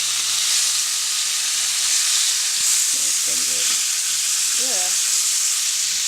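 Pork searing in a pan until crispy, a loud, dense, continuous sizzle and hiss throughout, with a brief voice and a few faint tonal sounds under it.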